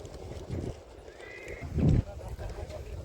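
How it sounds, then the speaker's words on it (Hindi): Racehorses at a horse race in Kutch, Gujarat, with clip-clopping hoofbeats, a brief whinny, and crowd noise and talk over them. "देखिए और भी घोड़े आ रहे हैं दोस्तों"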